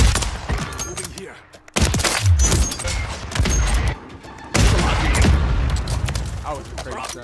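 Gunfire in a shooting video game: loud close bursts of rapid shots and booming impacts, arriving in several clusters with brief lulls, with a voice talking over them.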